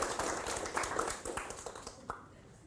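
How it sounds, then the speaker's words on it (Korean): Audience applause in a Korean history lecture hall, a scattered burst of clapping that thins out and fades to a few isolated claps by the end. "박수 한번 주세요."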